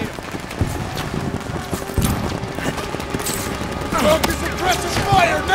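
Rapid gunfire bursts from a World War II battle in Call of Duty WW2, set on the Rhine, sustained and fairly loud with overlapping shots, explosions and shouted commands throughout.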